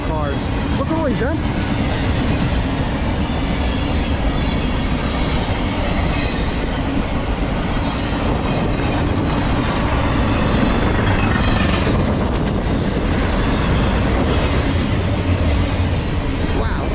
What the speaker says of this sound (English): Wow, it's a long train.